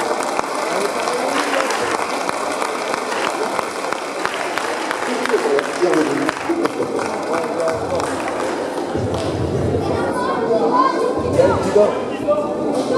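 Audience applause fills the room at a hypnosis talent show, steady clapping mixed with crowd murmur and some voices, continuing throughout.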